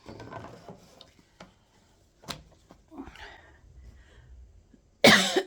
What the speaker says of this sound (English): I was having a coughing fit.